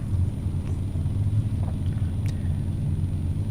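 A Formula Offroad car engine rumbling on the track at Greifa, a continuous low, heavy drone heard at a distance with no talk.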